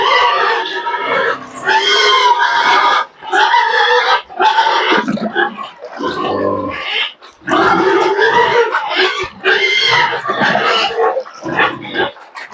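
Three-month-old fattener pigs in a pen make loud, frequent grunts, squeals and oinks, with several animals overlapping in bursts and only short pauses between them.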